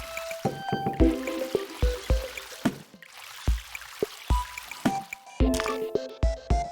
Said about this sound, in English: So we're just going to water sort of the area in advance.